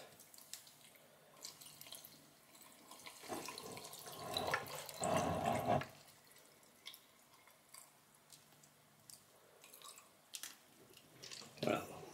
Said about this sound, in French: Et maintenant, on va mettre de l'eau, mais pas de l'eau du robinet, surtout pas.